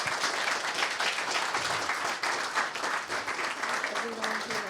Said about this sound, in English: Can we get a round of applause for our final keynote panel?